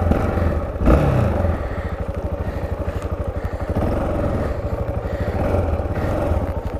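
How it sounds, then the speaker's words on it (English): A motorcycle doing a small rear-wheel-spin burnout, with a close, loud, steady engine drone and pulsing throb, a brief thump near the start, and faint scraping texture. "I must have done a wee burnout there."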